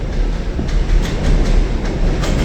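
A New York subway M train arriving: a loud, close, continuous rumble of heavy wheels and cars rolling into the station with faint rhythmic clatter, no voices.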